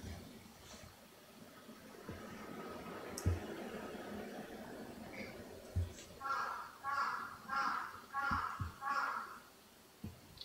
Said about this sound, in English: that's a big, noisy crow